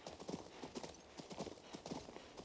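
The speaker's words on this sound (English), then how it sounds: "Y este caballo no corre nada." Horse hooves clip-clop at a steady trotting rhythm in the video game King's Bounty II, quiet and close with no talking over them.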